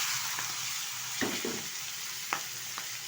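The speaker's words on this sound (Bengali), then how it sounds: "এখন দিয়ে দেবো সিদ্ধ করে রাখা আলু মটরশুঁটি আর ফুলকপি" Boiled potatoes, peas and cauliflower tipped into a frying pan of hot oil, a constant loud sizzle with a few soft thuds and scrapes as the vegetables land, no voices.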